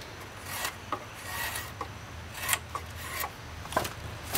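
A drawknife shaves a wooden chair spindle from square toward an octagon, each stroke a dry scraping rasp, repeated at an uneven pace and heard up close with no talking.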